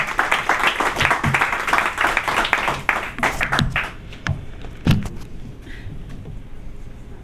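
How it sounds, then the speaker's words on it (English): Audience clapping and cheering for a spoken-word poet at an open-mic event, dense and fairly close for about four seconds, then thinning to a few scattered claps and room noise. "Clap it up, clap it up,"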